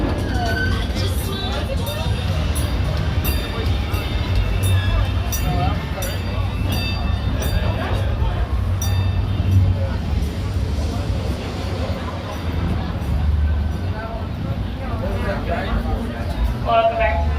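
An amusement ride train at Cedar Point on a busy day rumbles and clatters continuously beneath loud crowd babble and a voice over a speaker.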